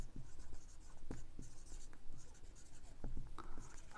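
A pen scratches steadily across paper while a Class 7 maths problem is worked out, with faint close strokes and taps in an uneven rhythm and no talking.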